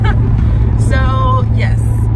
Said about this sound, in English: This car is trying to race.